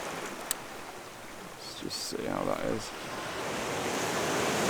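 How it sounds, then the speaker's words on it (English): Ocean waves rolling onto a shore, a continuous broad wash of surf that swells louder toward the end, with someone speaking briefly over it. "every single time the wave comes in, these patterns in the water are going to be different"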